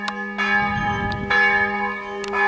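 A loud church bell in Motovun, Croatia rings with sustained, humming overtones, struck again partway through so the tones swell and linger.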